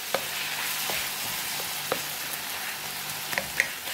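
Stew frying in a pan gives a steady, close broadband sizzle with a few sharp pops and crackles scattered through it, and no one speaks.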